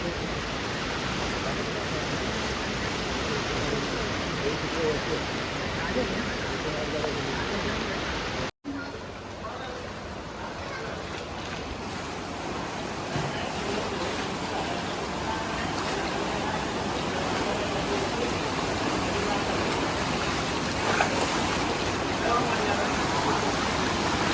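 The swollen Bharangi river in flood at Shahapur, rushing as a steady, loud, broadband roar of water that fills the whole stretch, with one very brief dropout partway through.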